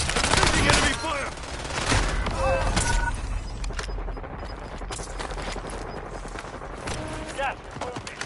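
Enemy gunfire in the battle royale shooter Warzone crackles in repeated bursts and scattered shots, loud at first and then thinning, with a voice speaking over the fight.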